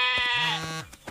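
A cartoon goat lets out a single loud, wavering bleat close by, with no talk over it.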